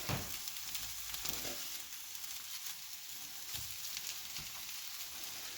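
Fried rice with ham and vegetables sizzles steadily in a pan as it is turned and stirred, a close continuous frying crackle with occasional scrapes of the utensil.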